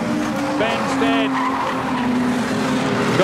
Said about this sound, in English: That's the cars competing for the lead as they head around under the canteen corner once again.